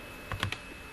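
A few quick keystrokes on a computer keyboard, close and crisp, clustered in a short burst within a second, with no talking.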